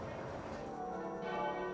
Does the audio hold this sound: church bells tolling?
yes